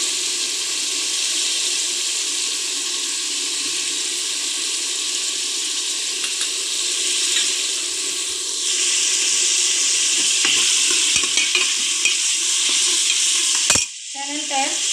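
Whole masoor dal fries in a pan as turmeric is stirred in, giving a steady, close sizzle with scraping stir sounds throughout, then a brief clatter near the end.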